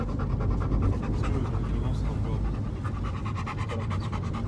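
A large dog pants steadily and heavily close by on a rainy walk, a continuous rhythmic breathing over a bed of outdoor rain and wind noise.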